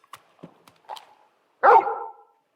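A large dog in the Final Fantasy 16 video game gives a few soft whimpers and yips, then one loud, close bark near the end, with no talk over it.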